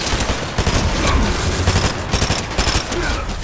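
Repeated DMR rifle shots crack out in quick succession during a Fortnite Zero Build solo match, loud and close, a steady volley of gunfire with a few distinct sharp reports standing out.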